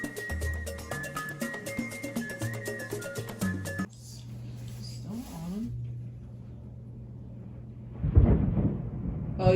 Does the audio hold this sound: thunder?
yes